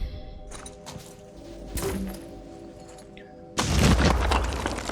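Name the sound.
grenade explosion in the video game Phoenix Point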